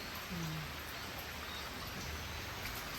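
Heavy monsoon rain falls steadily as a constant, even hiss close by, faint but continuous and without voices.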